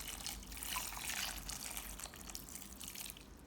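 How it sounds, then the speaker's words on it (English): Water pours from a tap into a bowl of bitter melon, filling it until submerged: a soft, steady trickling and splashing stream, fairly faint and close, running alone for a few seconds. "Add more water until the bitter melon is fully submerged."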